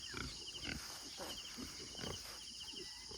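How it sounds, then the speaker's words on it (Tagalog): Pigs on a farm in open fields grunt and squeal in short, irregular bursts against a faint background of insects chirping, with some quiet human presence nearby. "So, yun yung mga baboy natin dito."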